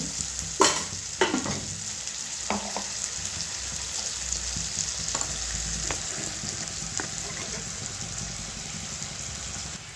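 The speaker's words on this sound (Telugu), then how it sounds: "టమాటాలు వేద్దాము. కొంచెం నూనె వేద్దాం." Tomatoes frying in oil give a steady, close sizzle throughout, with a few sharp scraping knocks near the start and scattered clinks later, without any talking.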